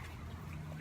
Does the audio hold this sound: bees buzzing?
no